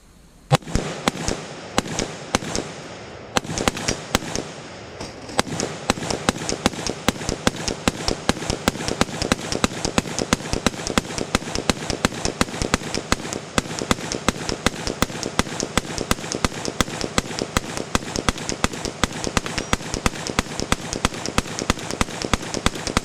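Rapid gunfire from 60 rounds at a range about 25 yards from the target, heard as a dense string of sharp, loud cracks. A few scattered shots come first, then an unbroken stream of fast reports continues to the end.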